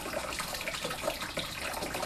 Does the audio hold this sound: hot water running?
yes